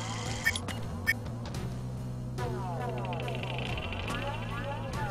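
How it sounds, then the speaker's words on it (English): An alarm system blares in a video game, a continuous warbling siren-like tone with sweeping pitch that runs throughout, joined by a couple of short sharp blips near the start and a second overlapping sweep midway. "Oh, it's just the alarm system"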